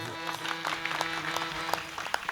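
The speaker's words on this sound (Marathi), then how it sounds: "सर्वजण टाळ्या वाजवा." A gathering at a Marathi kirtan claps for a young child performer. The applause is fairly faint and scattered, and a steady sustained drone tone runs beneath it.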